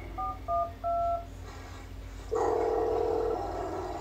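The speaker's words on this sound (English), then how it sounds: "I need to make a phone call." Telephone keypad dialing tones, a few short beeps in a quick series followed by a longer steady tone, heard alone with a low background hum.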